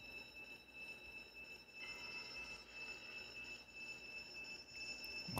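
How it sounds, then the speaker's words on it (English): Steady electronic alarm ringing in a stickman survival game, sustained high tones that hold for the whole stretch over a dense background rumble, with no talk. "I would pay for that alarm to stop."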